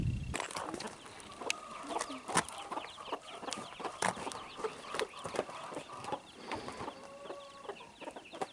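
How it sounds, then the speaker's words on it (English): A hen with four chicks on a working poultry farm clucks in soft, irregular bursts, with scattered short peeps and farmyard bird calls around it at close range. "You see that hen has got 4 chicks."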